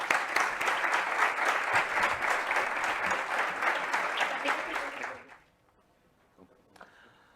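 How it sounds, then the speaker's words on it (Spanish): Conference audience applauding at the opening of a circular economy congress, dense sustained clapping for about five seconds that fades abruptly into near silence with faint room noise. "Un aplauso para ellas."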